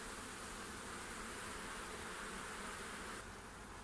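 Wild bee swarm clustered on the front wall of a hive in August, a steady, dense, even buzz from many bees at close range with no talk.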